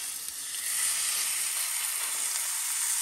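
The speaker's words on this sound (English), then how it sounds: "today, cooking a steak in the pan" A ribeye steak sizzles loudly in a lightly oiled frying pan, a dense, continuous hiss that swells slightly and holds steady throughout, close up and alone with no voices.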